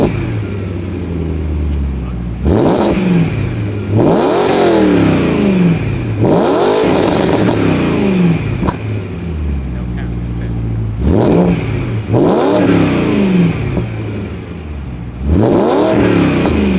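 BMW M3 with a DCT gearbox, its engine revved repeatedly in sharp bursts, each rising quickly and falling back to a rumbling idle, loud and close with faint talk between revs.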